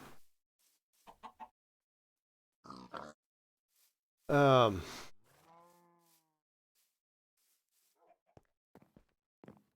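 Animal noises in a Minecraft-style video game: a loud squealing oink stands out in the middle, with scattered short grunts and clucks before and after, separated by silence.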